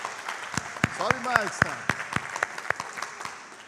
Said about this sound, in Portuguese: Aplaude o Senhor pelo pessoal da mídia aí.